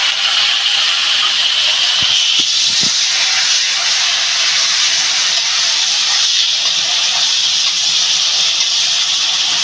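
Prawns coated in salt and turmeric drop into hot oil in a kadai and sizzle with a loud, steady hiss that continues unbroken, with a few faint clinks near the start.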